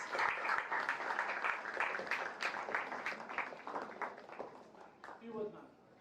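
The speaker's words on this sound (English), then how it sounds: "Please, a big round of applause." An audience at a book event gives a round of applause, a fairly faint, dense patter of clapping that thins toward the end as voices begin over it.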